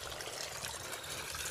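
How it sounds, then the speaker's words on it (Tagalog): Water pouring steadily onto vegetable plants in an eggplant garden, a continuous soft splashing and trickling wash close by with no talking. "Natutubig ko lang po kasi mga kagulay."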